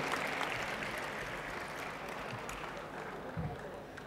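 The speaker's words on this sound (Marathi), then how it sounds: "याच्याकरता एकदा टाळ्या वाजवा तुम्ही" An audience at an annual school gathering's opening ceremony applauds a performer, a moderate, steady patter of clapping from a crowd, with a faint voice mixed in.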